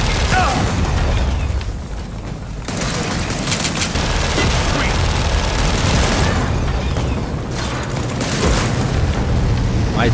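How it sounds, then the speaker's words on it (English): A mounted turret firing in the Gears of War 4 shooter, rapid loud bursts of heavy gunfire with explosions and booms, continuing through most of the stretch with a short lull, amid dense battle noise. "This turret must be doing work over here."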